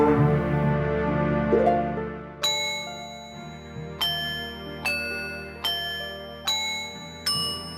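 A bright jingle-bell melody plays in The Legend of Zelda: Majora's Mask 3D, with a series of clear, ringing bell strikes in a steady rhythm over a low game backdrop.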